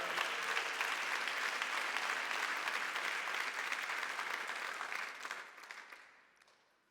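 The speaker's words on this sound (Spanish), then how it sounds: "Denle un aplauso fuerte al Señor." A church congregation claps during a sermon, a dense, even burst of applause that holds steady for several seconds, then thins out and fades to quiet.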